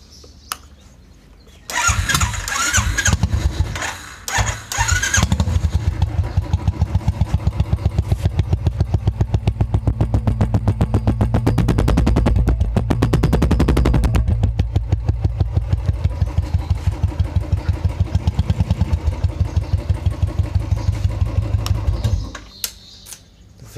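Motorcycle fitted with a short Punjab free-flow silencer exhaust starts up after a quiet moment, then idles loud and close with a rapid, thumping pulse and a few throttle blips before cutting off near the end.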